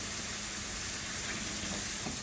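Potato roasties frying in a non-stick pan give a steady, loud, close sizzle and hiss that runs unbroken without any voice.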